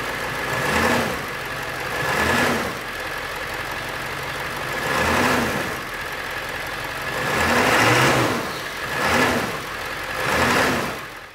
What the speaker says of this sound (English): Here's a quick clip with the engine running after everything is done.